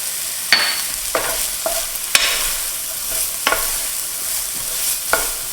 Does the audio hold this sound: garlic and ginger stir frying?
yes